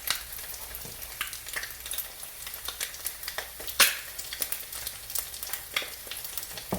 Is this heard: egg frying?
yes